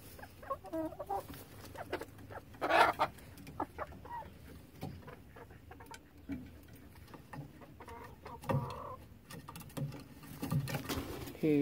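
Rooster giving low growling, clucking sounds as a person approaches, in short irregular bursts close to the recording, with rustling and patter between calls and no talking.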